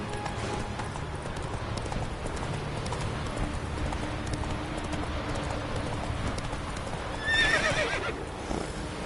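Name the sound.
horse hooves clip-clop in video game The Witcher 3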